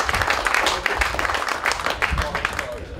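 An audience at a public talk with sailing skippers applauds in brisk, fairly close clapping that lasts about three seconds, with some talk mixed in.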